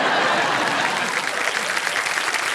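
A television quiz-show studio audience applauds in a dense, continuous wash of clapping that holds steady and loud throughout, with no voices standing out.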